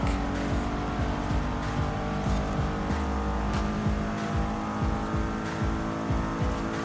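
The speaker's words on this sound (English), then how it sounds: "It's a very grippy car driving it over here." A 2022 BMW M5 CS in Forza Horizon 5 drives hard, its engine droning loud and steady with rising and falling revs through gear changes and some tire noise.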